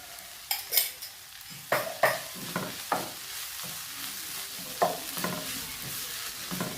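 Half a tablespoon of ginger garlic paste frying in oil for an egg masala, soft sizzle under a spoon scraping and clinking against the pan several times, close by, no speech.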